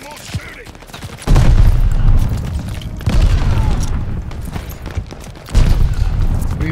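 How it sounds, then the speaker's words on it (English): Three heavy bomb blasts in the Call of Duty: Vanguard desert mission at Tobruk, each a loud, close boom with a rumbling tail that fades before the next detonation. "Now we're cooking. Gamma bombs."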